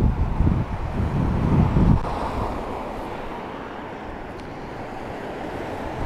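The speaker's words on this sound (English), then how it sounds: "it's still very, very windy" Strong seaside wind in Blackpool rumbling hard against the microphone, gusty and loud at first, then settling into a steady broad roar like distant surf.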